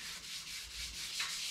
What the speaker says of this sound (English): I might be able to flush this out with just sanding this epoxy